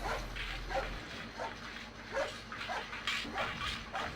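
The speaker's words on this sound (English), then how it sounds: "Yes, there's dogs on this track." Dogs barking in the video game Tiny Tank: repeated faint woofs and yips in a loose rhythm over a quiet background.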